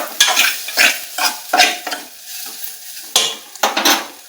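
Soya chunks fry in ghee as a spoon stirs them through the pan, giving repeated scraping strokes over a steady sizzle. The strokes come in an uneven rhythm and sound close and fairly loud, with no talking.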